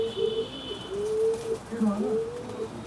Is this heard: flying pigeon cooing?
yes